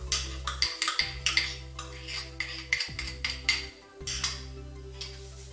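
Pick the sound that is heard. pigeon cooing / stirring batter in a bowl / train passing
stirring batter in a bowl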